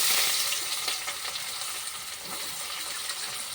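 Chopped onion frying in oil with whole cardamom, cloves, cinnamon and bay leaves, a steady bright sizzle throughout with faint stirring scrapes, close and moderately loud.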